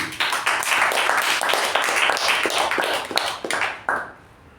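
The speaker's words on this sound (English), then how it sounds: "this really needs a thunderous round of applause" At a Toastmasters club meeting, a small group claps in a brisk round of applause with distinct individual claps audible, fading out after about four seconds.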